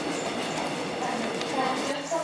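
A train rumbles through Cheonan Station on the Gyeongbu and Janghang lines, a steady, close mechanical roar with clattering wheels, while a station announcement voice talks over it.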